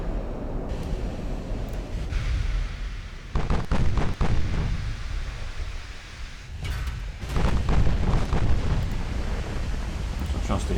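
Naval gun fire in the warship game Ultimate Admiral Dreadnoughts, heavy rumbling booms rolling out in a few loud waves over a steady low roar, with someone talking over it.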